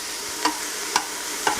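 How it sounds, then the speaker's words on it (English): Chopped vegetables and carrots fry in a pan as the base for a lentil soup, giving a steady close sizzle with three brief stirring scrapes at even intervals. "So that's why we're kind of frying this stuff to start with."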